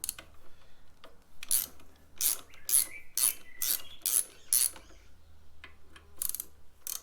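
A 1/4 Allen socket ratchet turns on handlebar clamp bolts of a Harley-Davidson CVO Road Glide, a close series of about ten quick, rasping clicking strokes in an even rhythm, with no talking.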